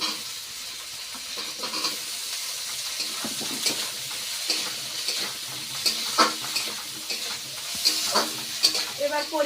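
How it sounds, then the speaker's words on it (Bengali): Tomatoes frying with onion and garlic in oil in a home kitchen, a steady soft sizzle with scattered stirring clatter and spoon scrapes, fairly quiet and close, no talking. "এবার এই টমেটোগুলো একসাথে ভেজে নেব"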